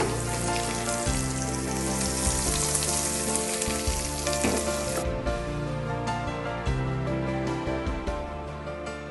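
Hot oil tempering for a capsicum pickle sizzles loudly and continuously, a dense crackling hiss that abruptly softens partway through as the pan settles, with no talk.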